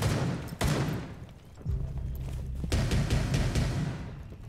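Bursts of rapid gunfire in Rainbow Six, loud and close, with short pauses between volleys and a sharp crack or two near the start.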